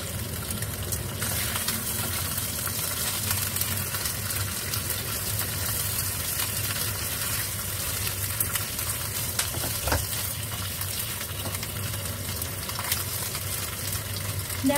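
Fish skin browning in a frying pan for a pork bone and arrowroot soup, giving a steady, dense sizzle and crackle that runs without break, close and fairly loud, with no talk over it.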